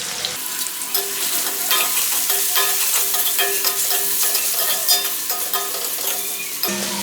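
Onions with turmeric sizzle steadily in a pan while being stirred for a ridge gourd and egg curry, a close, continuous crackle with scraping stir strokes throughout.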